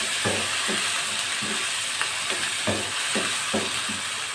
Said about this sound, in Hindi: और इसको सौते कर लेंगे।